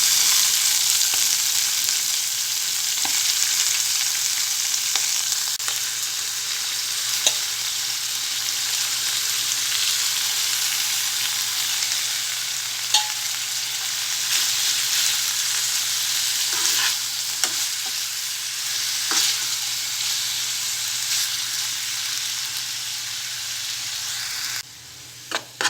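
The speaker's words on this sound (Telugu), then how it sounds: "ఆయిల్ వేడిన తర్వాత పాలకూర మగ్గించుకోవాలి." Spinach sizzles and fries steadily in hot oil in a pan after tomatoes were cooked, a continuous close crackle with occasional stirring scrapes and no talking.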